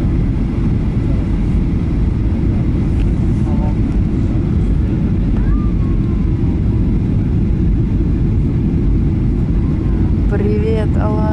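Inside an airliner cabin on a flight from Istanbul to Alanya descending toward Gazipasha airport, a loud, steady engine and air roar fills the cabin, with faint voices and chimes in the background.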